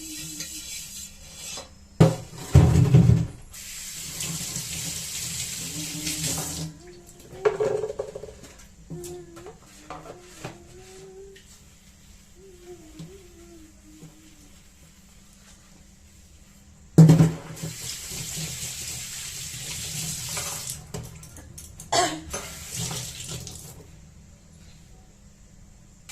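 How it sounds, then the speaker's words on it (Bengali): Dishes are washed under a running tap in intermittent bursts of gushing water and rubbing clatter, separated by long quieter stretches with faint background sounds. "বাসন ধোয়া হয়ে গেছে।"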